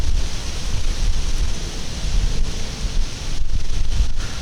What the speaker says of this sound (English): Wait till the wind dies down.